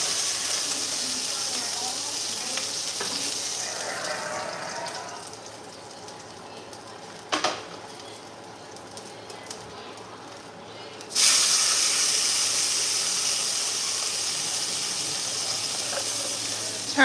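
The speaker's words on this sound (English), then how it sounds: "I'm gonna fry the last piece and then I'll put like onions and crap in it." A last piece of meat frying in a pan on a home stove, giving a steady hiss and sizzle throughout, with a brief crackle midway and a louder, harsher surge of sizzling partway through.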